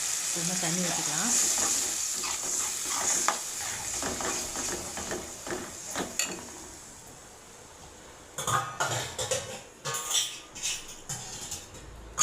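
A pot of simmering Tamil lentil-ball curry sizzles and bubbles close by as water is poured in and a spoon stirs it, giving a continuous hiss broken by scraping and clattering bursts.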